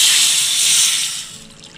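Ground green chilli sauce poured into a hot kadai, a loud bright sizzling hiss that swells and then fades out, heard alone.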